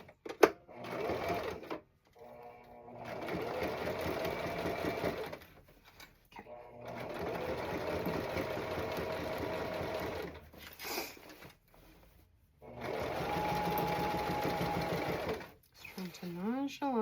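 A sewing machine stitches black striped pants in three long runs of steady mechanical whirring, separated by pauses with rustling and handling; a voice speaks between the bursts.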